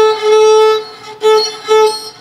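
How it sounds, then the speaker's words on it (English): A fiddle bow drawn crooked across a string gives three sustained, harsh, overtone-heavy notes with a squeaky edge, fairly loud and close, each stroke breaking off before the next. "if you have a bow that goes crooked on a string"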